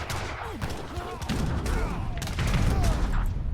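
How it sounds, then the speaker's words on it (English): Cannons fire in a real-time strategy battle, with repeated booming shots and clattering gunfire mixed into a dense, continuous battle din, while a commentator talks over it. "And now the cannons are doing a lot of work."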